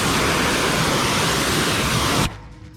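A car wheel being washed down with water, a loud, dense, steady spray that rushes close by for a couple of seconds and then cuts off abruptly, leaving a faint dripping tail.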